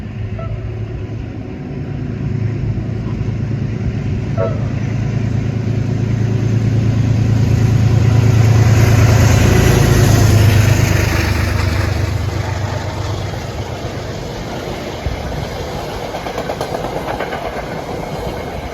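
A Metro-North New Haven heritage-livery locomotive accelerates past near the Bronx River, its engine roar swelling to a loud peak midway and easing off, with steady rail rumble and wheel clatter throughout.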